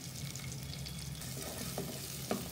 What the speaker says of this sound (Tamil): இது எல்லாத்தையும் நல்லா ஒரு 2 மினிட்ஸ் நல்லா வதக்கலாம்.